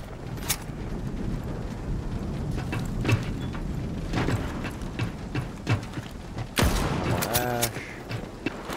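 Sporadic gunshots ring out in the Rainbow Six Siege video game as sharp single cracks spaced seconds apart over constant background game noise. A louder burst and a spoken voice come near the end.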